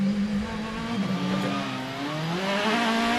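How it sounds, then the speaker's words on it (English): DTM race car at the Lausitzring heard from on board, engine revs rising and stepping through gears under heavy braking, a loud, close, buzzing tone with the pitch climbing and falling. "from on board, the revs rise then for heavy braking, and there's that slight lock-up from the Paffett car"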